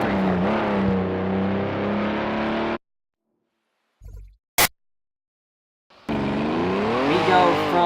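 NSX GT3 race car in Project Cars 2, its engine loud and harmonic with rising and falling revs, cutting out to silence midway before roaring back near the end.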